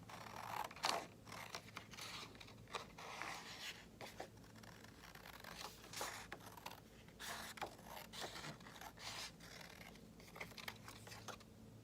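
Scissors snip through paper while a simple triangle shape is cut out by hand, a steady run of short crisp cuts and rustles close by, with no talking.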